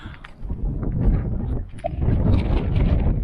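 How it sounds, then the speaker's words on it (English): Strong winter wind at Greenville, Maine, by Moosehead Lake, buffets the microphone in continuous rumbling gusts, loud and low, with no other clear sound above it. "Rather windy Greenville, Maine."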